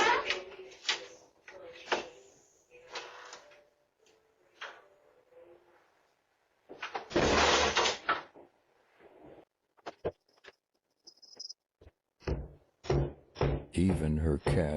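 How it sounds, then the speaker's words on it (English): Several sharp, heavy bangs of a door being slammed in anger at a house entrance at night, spaced irregularly through the stretch with a loud burst in the middle and clattering knocks toward the end. "Angry Karen door slamming fit."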